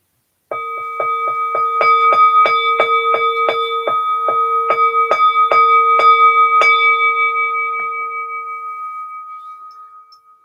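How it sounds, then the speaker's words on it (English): A bell tolls for the dead during a live religious service, struck in a rapid, even series of about twenty clear metallic rings that sustain and then fade away alone. "we were ring the bell for our blessed dead"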